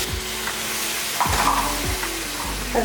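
A pan of masala sizzles steadily while a spoon scrapes and stirs in a few distinct strokes, with a brief hiss as a little water hits the hot oil.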